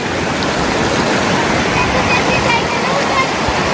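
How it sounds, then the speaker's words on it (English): A mountain stream near Tilicho Lake rushes close by in a loud, steady broadband wash of flowing water, continuous and unbroken. "we have come right down to the stream"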